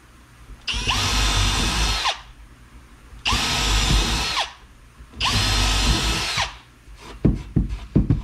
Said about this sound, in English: And I'll drill them all the way through.